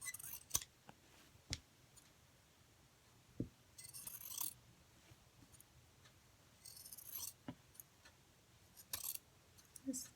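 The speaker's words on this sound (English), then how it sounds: "Just cut it all the way around until you have it separated" Scissors cut through a Crown Royal cloth bag in sparse, quiet snips and crisp fabric slices, heard close in a hushed room with small clicks between the cuts.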